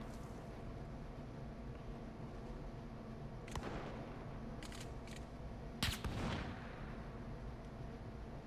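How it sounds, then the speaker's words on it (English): Gunfire in Call of Duty: Warzone: a few sharp, separate shots crack out over a steady game-ambience hum, with the loudest burst near the end. "It's probably blind shooting."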